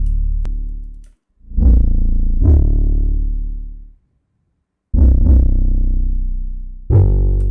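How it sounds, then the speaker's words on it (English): Deep, booming 808 bass notes hit one after another with short silences between, each sustaining and slowly decaying, dry and unprocessed. "The 808 without any effects would sound like this."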